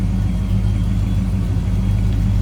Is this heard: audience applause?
no